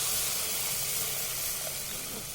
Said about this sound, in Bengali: তারপর গ্রেট করে রাখা গাজরগুলো হালকা করে ভেজে নিলাম।